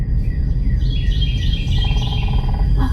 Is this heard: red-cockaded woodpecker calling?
yes